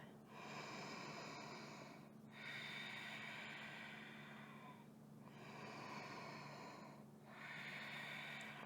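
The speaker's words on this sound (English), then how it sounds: "Breathing deep." Slow, deep breaths during a post-run recovery yoga stretch, close and soft, with long inhales and exhales repeating in a steady rhythm roughly every two to three seconds, no voices.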